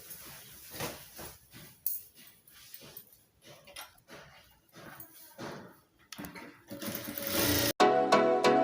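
A sewing machine runs in short bursts and then a steady, louder whir as it stitches a rolled half-inch hem on a saree, with soft handling noises between runs.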